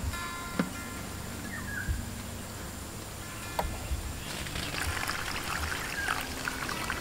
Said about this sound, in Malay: Takungan di bawah ni untuk meletakkan air, khususnya air baja, iaitu baja AB yang telah dilarutkan.